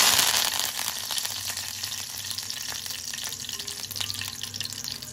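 Bay leaf, two cloves, a piece of cinnamon and a pinch of fennel seeds sizzle in hot oil for a mushroom curry, a steady, close crackling fry that starts loud and carries on evenly throughout with no voices.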